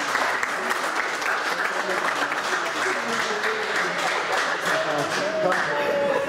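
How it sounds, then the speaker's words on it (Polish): Applause for the podium winners at an HDK PCK tournament: steady, dense clapping from a crowd lasting throughout, with a voice speaking over it. "No i duże brawa dla tych"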